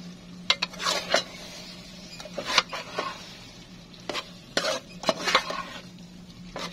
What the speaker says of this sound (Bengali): আমি ভালো করে নাড়িয়ে নিচ্ছি।